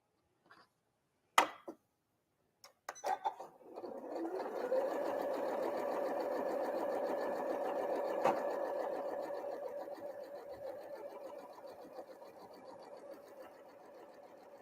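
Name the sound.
sewing machine stitching quilt block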